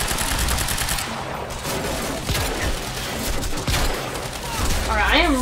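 Shotgun blasts in Quantum Break sound as a loud, dense barrage of repeated shots over several seconds, with a brief voice near the end.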